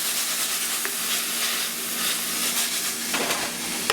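Ground meat fries and browns in a pasta pot for bolognese, a loud, dense, continuous sizzle with a couple of brief stirring scrapes, close up and with no talking.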